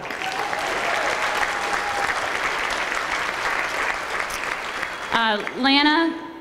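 Audience applause at an awards event honouring women in trucking, a loud sustained burst of clapping from a crowd that fills most of the stretch before giving way to a voice speaking.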